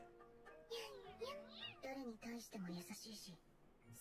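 A cat in an anime scene meows several times in quick, rising and falling calls, loud and close, with no other sounds around it.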